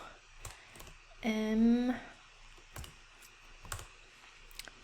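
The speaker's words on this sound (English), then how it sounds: "Let me make sure I'm typing that right." Computer keyboard typing for a biology lab software lesson, sparse sharp clicks spaced across the clip, near and moderately loud, with a brief spoken syllable partway through.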